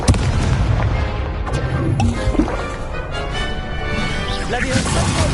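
Confringo fire-blast spell in the Hogwarts Legacy video game, a booming explosive burst layered within dense game noise and continuous combat effects, with a voice talking over the action.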